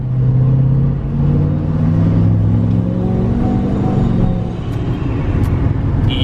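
A 2020 Duramax diesel pickup with compound turbos pulls hard, a loud, close engine drone with rising and shifting tones as it accelerates, the rumble easing slightly toward the end.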